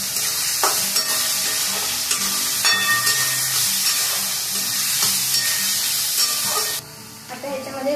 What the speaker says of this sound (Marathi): आपण आपल्याला शिमला मिरची बरोबर चांगला परतवून घ्यायचा आहे